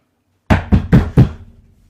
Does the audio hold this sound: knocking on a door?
yes